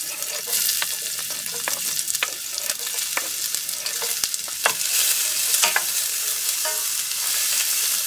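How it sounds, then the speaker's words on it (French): Garlic and onion fry in oil in a saucepan, giving a loud, dense sizzle with frequent crackles and scrapes of stirring throughout, with no talking. "Je vais ajouter de l'huile dans le fond. On va y mettre l'ail et l'oignon."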